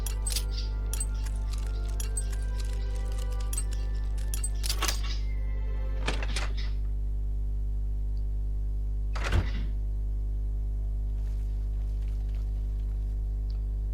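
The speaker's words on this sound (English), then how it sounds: "Open boarded up door to abandoned house." A boarded-up door of an abandoned house opens in Oblivion, with a few scattered wooden thunks and clicks over a steady low hum, one sharper knock standing out near the end.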